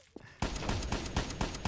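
Gunfire in a Minecraft Trouble in Terrorist Town match: after a faint click, a rapid run of sharp shots starts abruptly and keeps a steady rhythm, moderately loud, with no talk.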